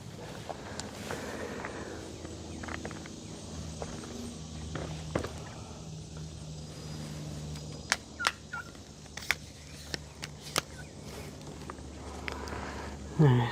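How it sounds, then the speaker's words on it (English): Turkeys gobble repeatedly in a farmyard setting, with footsteps and scuffling among them and a voice speaking intermittently over the outdoor ambience. "Turkeys running around here."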